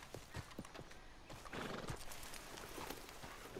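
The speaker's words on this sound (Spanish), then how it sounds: "Voy a ver el caballo de alguien, no sé quién es." A horse in the video game Red Dead Redemption 2 clip-clops with rapid hoof beats, then a loud neigh rises over the trotting, fairly close and clear.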